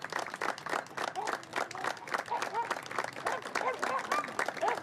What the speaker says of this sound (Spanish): Y en medio de aplausos salieron de la base antinarcóticos por una calle de honor que les hizo la policía